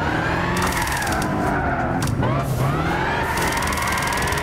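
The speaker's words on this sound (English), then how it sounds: "Car actually slides a lot better than I was expecting it to." A Lexus GS300 drifts and slides through corners in Gran Turismo 6, its engine droning and revving steadily with tire squeal mixed in, loud and continuous throughout.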